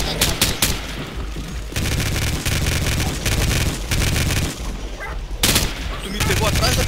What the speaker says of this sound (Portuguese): Spider, que tiro foi esse